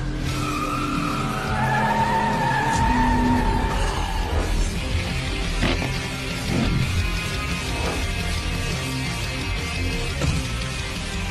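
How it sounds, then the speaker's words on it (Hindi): Racing cars skid and squeal in an animated race scene. Tires whine in rising and falling tones over loud engine roar, with sweeping pass-bys and no talk. "कार की आवाज?"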